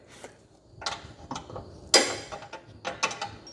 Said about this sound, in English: we'll have to wrench that top one because the body is in the way